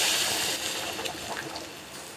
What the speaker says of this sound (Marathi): आता मी त्याच्यावर आपण जे उकळून घेतलेलं ते पाणी घालणार.